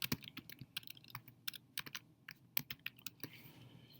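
Rapid typing on a computer keyboard while working in iMovie, with irregular bursts of crisp key clicks and short pauses, heard close and alone at a soft level.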